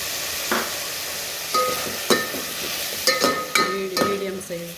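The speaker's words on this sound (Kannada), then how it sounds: "ಟೊಮೊಟೊ ಹಾಕ್ತಿದ್ದೀನಿ." Tomatoes frying in hot oil in a pan for a village-style sambar, a soft steady sizzle broken by several sharp scrapes and clinks of a stirring spoon against the pan.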